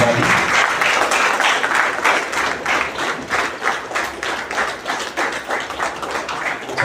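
A crowd claps loudly and steadily for the chief guest at a Telugu community Ugadi New Year celebration, a dense, sustained applause that carries on without a break.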